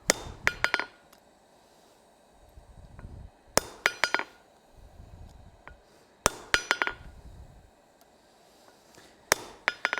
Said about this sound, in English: the constant tapping on the anvil